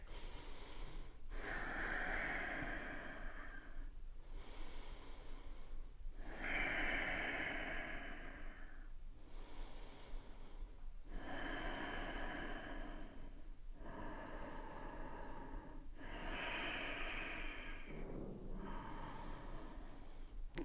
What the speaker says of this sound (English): 5 deep breaths here.